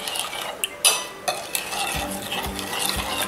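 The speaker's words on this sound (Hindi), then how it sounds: "इसको अच्छे तरीके से मिक्स करूंगी" A spoon stirs black salt and cumin powder into kokum kadhi, making several clinks and scrapes against the bowl over a soft, steady background hiss.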